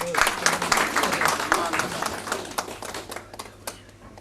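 Scattered clapping from an audience at a Hindi-language public event, sustained for a few seconds with irregular claps under a murmur of voices and some speech.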